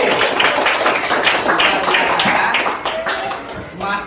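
A classroom of pupils claps for a presenting group, close and lively hand claps that taper slightly near the end, with some voices underneath.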